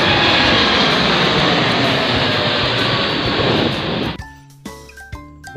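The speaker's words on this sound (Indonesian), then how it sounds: "Wah, ini pesawat terbang ya teman." A Garuda Indonesia toy airplane gives a loud, steady jet-engine roar that cuts off abruptly, followed by short tonal beeps and notes from the toy.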